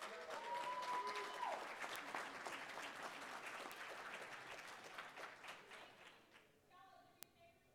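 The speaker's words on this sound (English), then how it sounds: "And applause for this woman who actually is doing a hell of a good job pressing all that." An audience breaks into loud, dense applause for a woman during a livestream. The clapping starts strong, then thins and fades away toward the end.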